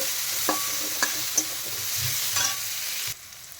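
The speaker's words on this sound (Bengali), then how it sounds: "দিয়ে পেঁয়াজটা হালকা ভেজে নেব" Finely chopped large onion frying lightly in a pan for a jackfruit and prawn curry, a soft continuous sizzle broken by a few stirring taps and scrapes before it suddenly cuts off near the end.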